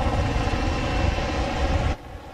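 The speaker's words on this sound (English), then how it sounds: "that helicopter searching that area earlier today" A search helicopter over Silver Sands Beach in Milford during a recovery mission gives off a loud, steady rotor and engine roar that cuts off abruptly near the end.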